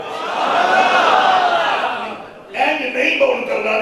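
A crowd at a religious gathering in Kotla Sarang, Gujrat, chants slogans in unison in two loud swelling bursts separated by a short dip.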